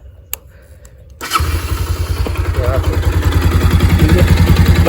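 A Bajaj Pulsar motorcycle engine with an abnormal noise starts after a second of near silence, then runs loud and close with a steady, rapid pulsing idle that grows slightly stronger.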